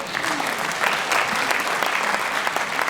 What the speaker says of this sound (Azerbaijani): bu alqışlar onlar üçün nə qədər önəmlidir